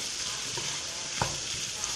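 Faint sizzling in a pan with a couple of soft scraping strokes as stewed carrots with tomato paste are stirred; quiet, no voices.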